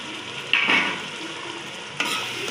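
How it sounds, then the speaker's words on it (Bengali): Potatoes stirred in a hot cooking pan: a constant sizzle broken by two sharp scraping pushes of a spatula, close and fairly loud with no talk. "আলুটা দিয়ে একটু ভালো করে নেড়ে করে জল দিয়ে দেবো"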